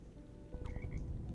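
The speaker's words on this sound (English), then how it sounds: "there's a frog in here" A frog in the video game Minecraft croaks in a short, faint burst of a few ribbity calls over quiet ambient game sound.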